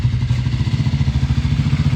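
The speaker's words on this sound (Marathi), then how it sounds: "बाईक आहे ही." A Triumph Scrambler 400 X motorcycle engine idles loud and close, its steady low chugging pulsing with a rhythmic clatter.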